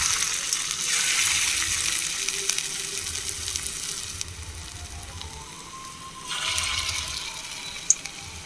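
Pointed gourd (potol) fritters fry in hot oil with a steady, fairly loud sizzle and bubbling that swells and eases, with a few brief clinks, no voices.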